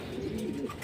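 Racing pigeons coo in low, rolling murmurs, a steady close-up drone of several birds with no talk over it.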